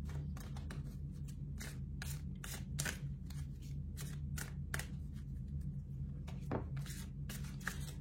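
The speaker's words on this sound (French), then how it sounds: "Ah, une petite carte est tombée." Tarot cards being shuffled by hand, a close, quiet run of rapid riffling and slapping bursts at a steady rhythm, with one brief card-drop tap near the end and no talk.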